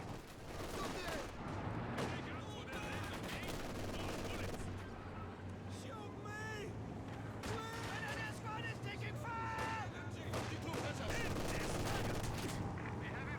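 Gunfire and battle effects from the World War II strategy game Company of Heroes 2, with rapid bursts and shots layered over steady game ambience and music, while a commentator talks.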